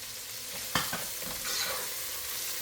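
Bean sprouts sautéing in a pan for lumpia give a soft, steady sizzle, broken by a few sharp scraping stirs; faint and close, with no voices.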